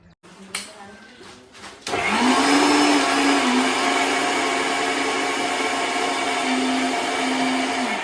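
A kitchen mixer grinder kicks on after a few faint knocks and soft talk, settling into a loud, steady high whine and whir that runs unbroken to the end.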